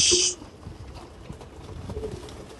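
Pigeons in a loft give soft, low cooing calls at a moderate distance, preceded by a brief sharp hiss at the very start, with no speech.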